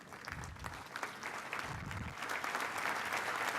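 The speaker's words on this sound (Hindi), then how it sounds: "can we have a standing ovation for Sunita Williams" Audience applause as a standing ovation for astronaut Sunita Williams at a conference session, steady clapping that swells and grows louder toward the end, with no voices over it.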